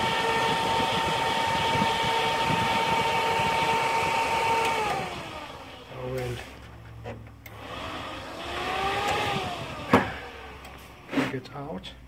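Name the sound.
Dell OptiPlex power supply fan spinning fast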